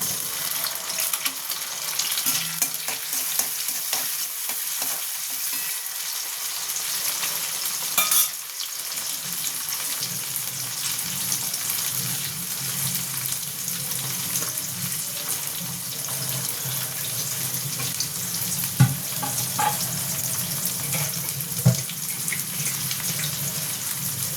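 Chopped tomato sizzling in hot oil with a vegetable tadka, a loud, steady frying hiss that continues throughout, broken by occasional utensil taps and scrapes, heard up close with no talking.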